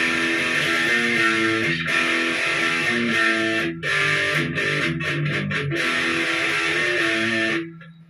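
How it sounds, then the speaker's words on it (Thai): Loud, crunchy distorted Condor CRX10 electric guitar on the bridge pickup plays chords and choppy riffs with brief stops, then cuts off abruptly near the end. "ต่อมาเป็นภาคเสียงแตกนะครับเรามาฟังเสียงแตกของตัวนี้กันดีกว่"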